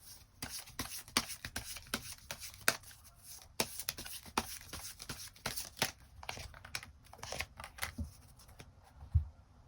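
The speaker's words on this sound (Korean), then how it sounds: "추가 카드 뽑아보도록 하겠습니다" Tarot cards are drawn and shuffled in a run of sharp, quick card slaps and rustles, close and crisp, with no talking.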